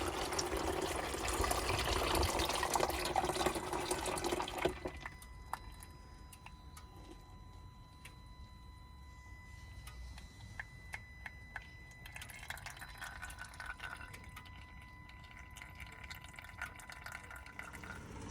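Engine oil siphoned from the sump of a Land Rover Discovery 4 TDV6, a loud rushing gush for several seconds that drops to quieter trickling, dripping liquid, close by.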